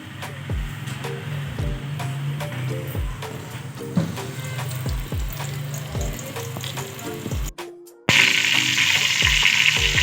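Hot oil sizzling in a pressure cooker pot on a gas stove for rice, a steady crackle with repeated clanks and stirring taps, then a brief cut and louder, brighter sizzling.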